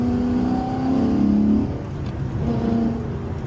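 A Mustang GT V8 with an X-pipe exhaust and high-performance cats revs up, holds a deep throaty tone, then drops back to a rumbling idle, close and loud.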